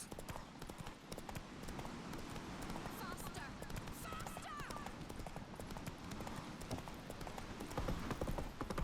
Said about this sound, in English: See what kind of stamina this horse has.